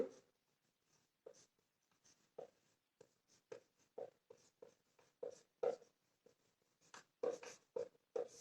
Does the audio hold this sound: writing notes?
yes